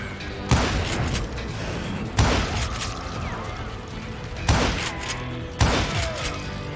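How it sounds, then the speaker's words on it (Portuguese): Four sharp gunshots from Call of Juarez Gunslinger fired at a wooden log, spaced irregularly across a few seconds, loud and close, each with a short ringing tail over a low game ambience. "Nossa, eu tô atirando um tronco de madeira"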